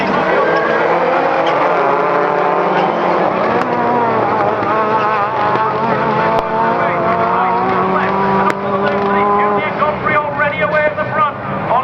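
Rallycross cars with brakes released launch off the start line at Croft, a loud, dense roar of engines held throughout with rising and shifting revs as the pack accelerates, a commentator talking over it.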